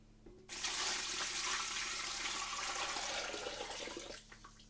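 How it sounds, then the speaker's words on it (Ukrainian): Cold spiced garlic marinade is poured over pork brisket before marinating for hot smoking, a steady splashing liquid pour that starts abruptly, runs loudly for about four seconds, then tapers off. "І заливаємо маринадом грудинку."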